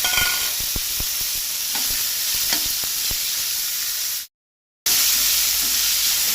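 Bitter gourd being stirred and fried in a pan for a Goan vegetable dish: a steady loud sizzle with repeated scraping stir strokes, cut by a brief silent gap before the frying resumes.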